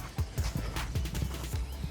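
A horse's hooves thud in a steady clip-clop rhythm on a yard or arena surface, close and fairly loud, with a low whinny or snort mixed in amid faint outdoor background noise.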